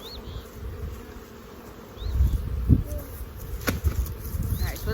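Honeybees hum and buzz around an open hive as pollen-laden workers fly in, a steady close insect drone with a few louder passes and light handling knocks.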